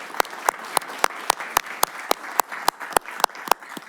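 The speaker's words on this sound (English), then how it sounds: "I'd like to give you all a round of applause for everything that you've done to help people out." At a city council wildfire update, the audience applauds the fire chief and responders; sharp, evenly spaced claps ring out about four times a second over a softer background of applause.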